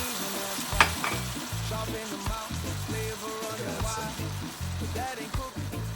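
Scotch bonnet jerk sauce sizzles and crackles loudly in a hot pan as vinegar goes in, a steady close frying hiss with stirring scrapes throughout.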